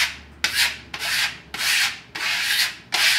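Trowel pulling Texturline moire wall coating in cross-hatch passes, five broad, loud scraping sweeps, each starting sharply and fading, separated by brief pauses.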